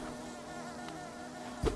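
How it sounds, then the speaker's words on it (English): Bees in the Hollow Knight video game buzz in a continuous droning hum, moderately loud and close, with a brief thump near the end and no speech. "Oh god, anything but the bees!"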